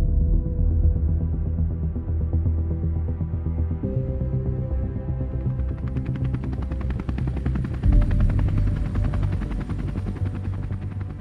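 A helicopter's heavy rotor throbs continuously and loudly, its chopping pulse steady and close throughout with no voices.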